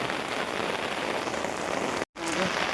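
Heavy rain pours steadily onto surfaces at night beside a river during fishing, a dense, close, unbroken patter with a brief cutout near the end.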